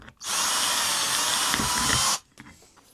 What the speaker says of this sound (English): I wanted to drill out these 4 holes in the corners